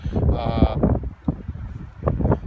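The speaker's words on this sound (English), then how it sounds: "sorry for the wind, it's a little windy out here" Gusty wind buffets the microphone in low rumbling bursts while a person talks over it outdoors beside a Subaru Forester.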